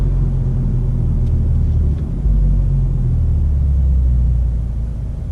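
A car's engine rumbles low and steady, slowing down under manual-mode engine braking after the foot lifts off the gas, with a brief dip partway through.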